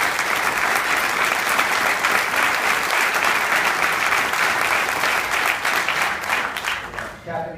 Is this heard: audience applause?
yes